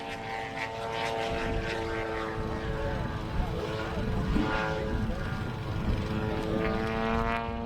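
A radio-controlled Extreme Flight Laser aerobatic model airplane flies overhead at a model air show, its propeller engine a steady, fairly loud buzzing drone that rises and falls with the manoeuvres while people talk in the background.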